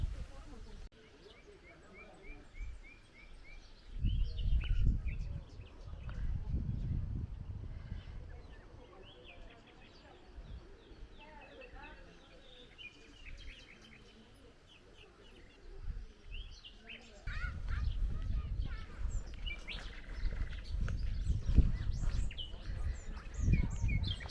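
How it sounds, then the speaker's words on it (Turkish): Birds chirp and tweet continuously from surrounding greenery in a village, with outdoor ambience and occasional louder rustling or passing noise in the background. "şu yeşilliğin içinden tamamen kuş sesleri geliyor."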